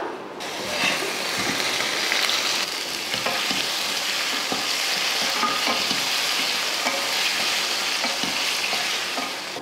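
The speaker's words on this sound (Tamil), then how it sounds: "தக்காளி இந்த அளவுக்கு நல்லா வதங்கிடுச்சு" Tomatoes sautéing in hot oil for tomato kulambu, a steady close sizzle with repeated scraping and stirring clatters of a spoon against the pan throughout, no voices.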